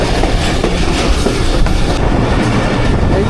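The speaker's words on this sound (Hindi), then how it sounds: "130 डाउन थल एक्सप्रेस हमारा वेट कर रही है और स्लो स्पीड में पास होगी हमारी ट्रेन" The Jaffar Express runs on rails between Attock and Rawalpindi, heard from on board as a loud, close, continuous rumble and clatter of wheels, with no talking.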